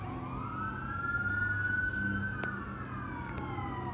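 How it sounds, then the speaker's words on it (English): Emergency vehicle sirens from a nearby fire station wail steadily with slow rising and falling pitch, loud and fairly close over a low traffic rumble, with a couple of short sharp clicks. "Excuse the sirens. Something's going on over here,"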